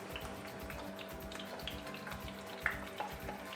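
An egg cooking in butter in a pan on a home stove, giving a soft continuous sizzle and crackle heard up close, with a few small pops and no talk.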